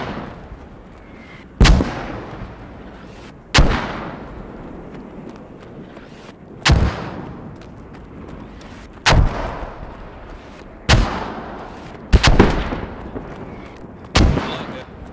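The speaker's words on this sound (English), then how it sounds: "Mortars are landing right where we need them." Mortar rounds landing in the video game Squad, seven heavy booming impacts spaced every two seconds or so, each a sharp loud crack trailing into a rumbling decay over faint background noise.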